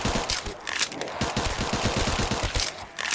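Rapid, repeated pistol fire in a zombies video game on a custom map: a dense string of sharp shots in quick succession, loud and close.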